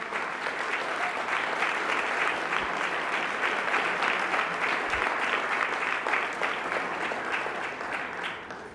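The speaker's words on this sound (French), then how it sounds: "ça vaut une bonne main d'applaudissements" Sustained, even applause from an audience in a hall during a council address, dense clapping at moderate volume holding steady for several seconds before easing slightly at the end.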